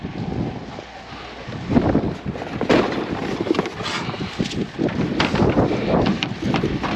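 Wind blows hard outdoors against the microphone, a continuous loud rushing buffet with gusty swells throughout and no talk.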